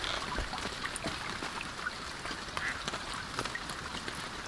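Duck quacks in the survival game INCUR, a few short calls scattered over a steady outdoor ambience of wind or flowing water, with no talking.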